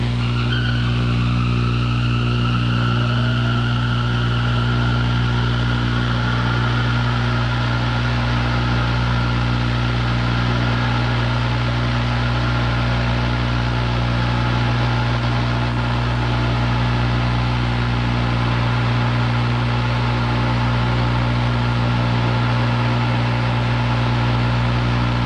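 A steady, loud engine drone with strong low harmonics runs continuously and alone. The engine has been cold-soaked overnight at minus 25 °C and is running on 5W-40 oil in a cold-start test.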